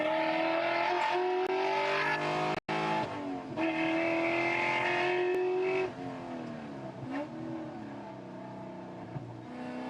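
A Spec Corvette race car engine revs under onboard footage at a racetrack, a loud sustained roar rising and falling through the gears with a brief cut, the pitch dropping lower toward the end.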